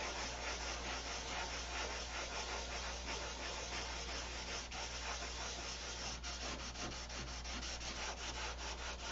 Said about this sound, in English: Yeah, still sanding away.